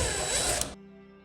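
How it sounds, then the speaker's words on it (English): A power drill drives screws while mounting an LED ceiling light, a close whirring burst that cuts off abruptly after under a second, leaving a faint hum. "we're gonna be a little lazy and just use a drill"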